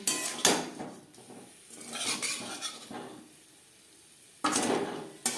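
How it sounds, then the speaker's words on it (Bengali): Fried cauliflower being stirred with spices and a pinch of garam masala in a pan for fulkopi bhaja, a utensil scraping and clattering against the metal in a few close bursts with faint sizzling between. "ফুলকপির সাথে বেশ ভালো করে মিক্স করে দেবো"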